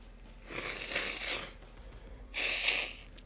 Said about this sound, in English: I'm just blowing my nose.